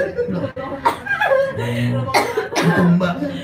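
A voice breaks into a couple of sharp coughs mixed with chuckling and talk, close and fairly loud.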